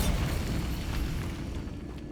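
A Bombarda spell blast in the video game Hogwarts Legacy, a deep rumbling explosion with a broad, noisy roar that fills the whole moment and holds steady, moderately loud, before thinning slightly at the end.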